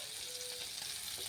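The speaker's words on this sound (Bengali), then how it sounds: "এবার গ্যাস কম করে চিংড়ি মাছটা ভালো করে ভেজে নিব" Prawns frying in a pan over low gas give off a steady, close sizzling hiss with faint stirring scrapes, alone without talk.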